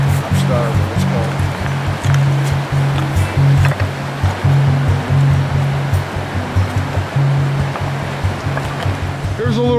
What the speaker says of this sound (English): Here's a little tributary from the Cattaraugus.